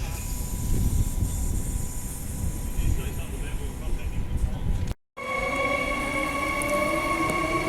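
A suburban commuter train rumbles past a station platform during peak-hour disruption, a loud low drone with rail noise that cuts off abruptly, followed by squealing tonal whines.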